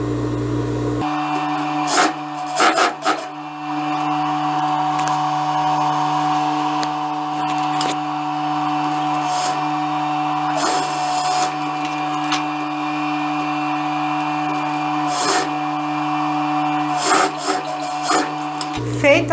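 A sewing machine stitches the shoulder seam of a lace blouse, joining front and back pieces right sides together, with a steady continuous motor whir and a few brief pauses and bumps throughout.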